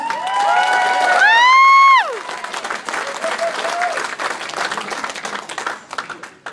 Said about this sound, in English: please give Larry a nice round of applause